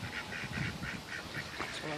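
Mallard ducks calling near water on an outdoor trail: a steady run of repeated nasal quacks at an even rhythm, moderately close, with soft outdoor background noise underneath.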